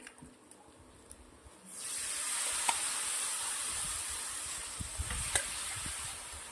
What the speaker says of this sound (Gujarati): હવે આપણે નાખવાના છે અંદર છોલે